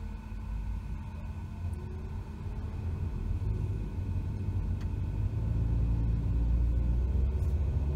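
A Toyota Sienta hybrid drives through city streets, its engine a low steady rumble in the cabin that swells slightly toward the end, with no talk.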